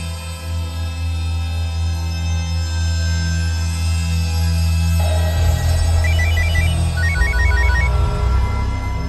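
A telephone rings in an indoor domestic scene, its repeating trilling tones entering midway over a steady low hum and music bed, moderately loud and without speech.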